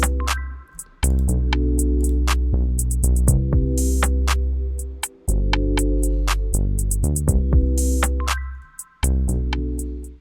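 Beat built on KIA Movement, a free synth from the car company Kia: deep sustained bass notes and chords with bright clicking percussion hits, looping in a steady rhythm with brief dropouts, full and loud, no talking.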